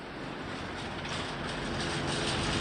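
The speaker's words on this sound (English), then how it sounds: "riding the popular Metrolink, the commuter train system which is operational Monday through Friday" A Metrolink commuter train rolls steadily along the line, a continuous rumbling rail noise with faint wheel clatter that slowly grows louder over a few seconds, no voices.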